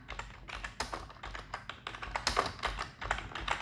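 Typing on a computer keyboard while filling in a name and account on a recovery form: rapid, uneven clusters of crisp key taps, close and clear with no talk.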